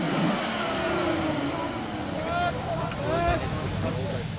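A 4x4 off-road vehicle at the Maxxis National 4x4 Challenge in Rustenburg spins its wheels on an obstacle while its mid-pitched engine revs hard and steadily, with faint voices in the background.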